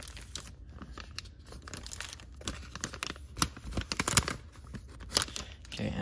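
Close crinkling and tearing of a factory-sealed 1991-92 Pro Set hockey card pack wrapper being cut open with scissors, a quiet run of irregular plastic crackles and snips.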